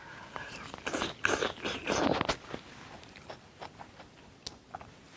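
Someone eats a bowl of Chongqing noodles with soybeans and pork up close, with soft, irregular bites, crunches and chewing, busier at first and then sparser.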